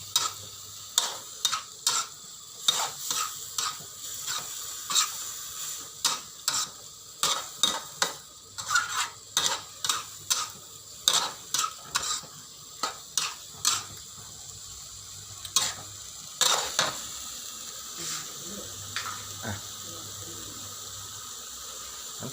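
Hed thop mushrooms stir-fried in a pan with oyster sauce, a long run of sharp spatula scrapes and clacks against the pan in an uneven rhythm over a low sizzle, close and fairly loud, no talking.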